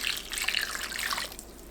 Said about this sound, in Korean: 감자 위에 양념을 모두 부어주세요.